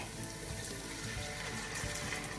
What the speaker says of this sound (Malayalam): ഇനി നമുക്ക് ഒരു 1/2 ഗ്ലാസ് വെള്ളം ഒഴിച്ചു കൊടുക്കാവേ